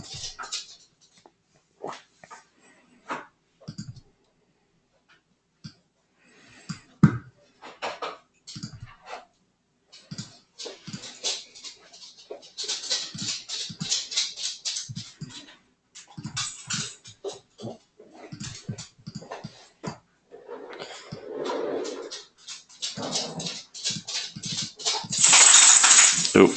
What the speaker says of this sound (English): That is my dog and Kevin.